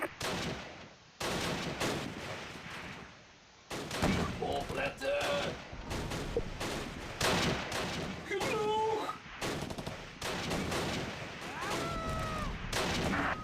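Gunfire in the World War II tactics video game Close Combat: Last Stand Arnhem: repeated bursts of rifle and machine-gun fire with distant artillery thumps, layered over battlefield noise and scattered voice radio calls.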